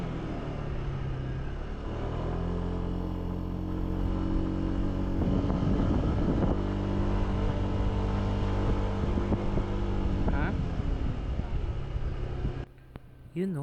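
A motorbike engine strains up an elevated road in Miaoli, Taiwan, its tone rising and falling with gear changes in a close, continuous drone under wind noise before cutting off near the end, with a voice talking briefly over it.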